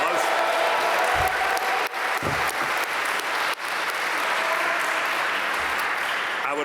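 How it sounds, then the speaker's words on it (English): Dense, sustained applause from a sizable crowd at a Duke Fuqua graduation fills the room at a steady level for the whole stretch. "So if you could give him a round of applause."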